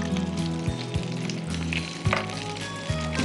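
Boiled beans frying in butter in a pan, a close sizzle broken by several soft thumps and scrapes of stirring at irregular intervals.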